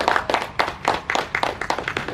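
Church audience at a St. Joseph parish event clapping hands together, a dense burst of close, loud applause with sharp, uneven claps rising and falling in rhythm throughout.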